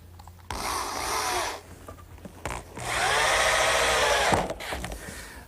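A power drill drives 2.5-inch screws into wood in a woodworking shop, with two sustained whirring bursts separated by a short lull, each loud and close.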